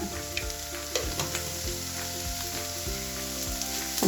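Garam masala and pepper powder are stirred into a frying soya chunk cutlet mixture with potato and onion. Constant sizzling fills the pan, and intermittent spoon strokes scrape and knock against it, with no voices.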